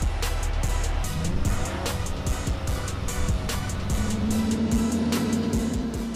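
A 2020 Chevrolet C8 Corvette runs hard on a dyno in fifth gear, its engine droning loudly and steadily with a rising tone toward the end, close and continuous throughout.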